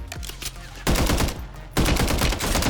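Loud automatic gunfire in the shooter game Warzone, two dense bursts of rapid shots following a quieter stretch, with no talk.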